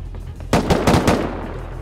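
A short, loud burst of rapid AK rifle fire in the survival shooter Rust, several sharp cracks in quick succession after a half-second of quiet, then fading.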